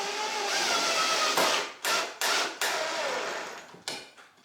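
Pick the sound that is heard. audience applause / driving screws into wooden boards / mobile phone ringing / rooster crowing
driving screws into wooden boards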